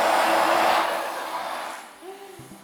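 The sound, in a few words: central vacuum system running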